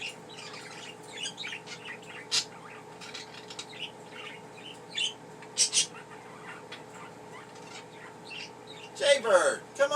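Pet budgerigars chirping and squawking indoors in scattered bursts over a steady background hum, with a louder flurry of calls near the end.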